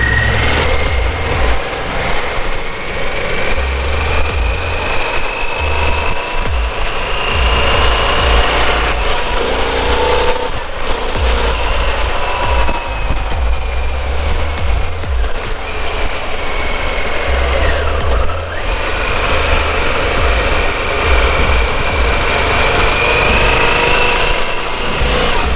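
A 2021 Harley-Davidson Pan America motorcycle riding along with a steady loud engine drone, rising and falling pitch as it changes gears, plus heavy wind rush, no talk.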